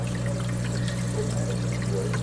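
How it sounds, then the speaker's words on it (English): Water running inside a Euhomy 100 lb commercial ice maker, a steady pouring trickle over the machine's constant low mechanical hum, close and continuous. "You hear the water inside."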